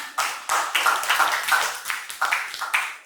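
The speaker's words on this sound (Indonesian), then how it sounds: "Oke, kasih tepuk tangan dulu buat Ima" A small classroom group claps in short bursts after a student's presentation, uneven rhythmic hand claps close by, rising and falling several times over three seconds.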